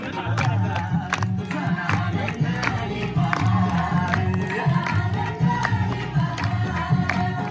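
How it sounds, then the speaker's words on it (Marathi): Outdoor village crowd in the Konkan cheering and clapping to welcome arriving officials, a steady loud wash of shouts and whoops with scattered hand claps over thumping music. "प्रेक्षकांनी टाळ्या वाजवा."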